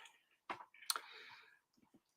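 A cat steps across a computer keyboard, producing a few faint, irregular key clicks and taps with quiet gaps between them, close but low in level.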